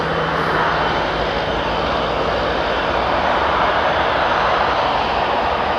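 An EVA Air Boeing 777 touches down at Toronto Pearson, its engines giving a loud, continuous broadband roar and rush that stays steady throughout, with no talk.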